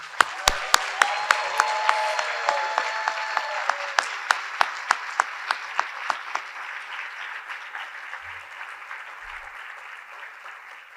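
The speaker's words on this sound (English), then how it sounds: "Let's give all our graduates another round of applause." Graduates at a commencement ceremony receive a round of applause from the audience, a steady wash of crowd clapping with a few sharp nearby claps standing out at first before it thins and fades.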